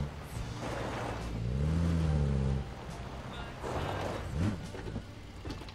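A car is manoeuvred into position in a video game, its engine revving up loudly, holding, then dropping back, followed by a second, shorter rev and some clunks.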